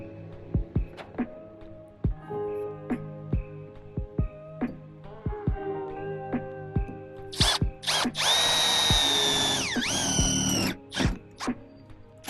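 A power tool cuts through a metal vehicle roof for a Maxx Air fan installation, starting and stopping in repeated bursts, then running into a long, loud, screeching cut near the end.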